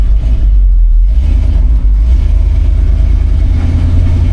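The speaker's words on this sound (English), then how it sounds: "As soon as I get on the throttle, she's ready to go." The 327 V8 in a 1964 Chevrolet C20 pickup revs under throttle, a loud, continuous low engine roar close by.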